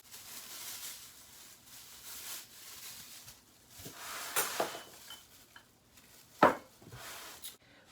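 Spiced raw-pack meat spooned into glass canning jars, with scattered clinks, scrapes and knocks of utensils against glass. One sharp, louder clatter lands near the end; no one speaks.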